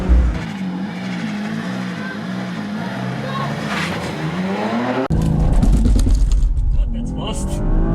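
A BMW M3 Competition and an Audi RS4 Avant launch side by side in a drag race, engines roaring loudly with rising and shifting revs and a brief tyre chirp, while someone talks over the noise.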